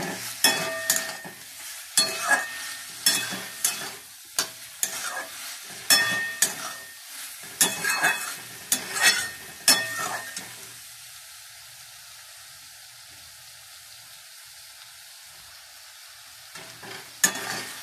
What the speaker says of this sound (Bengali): একটু নাড়িয়ে চাড়িয়ে নিলাম, জলটা একটু শুকনো শুকনো করে নিই।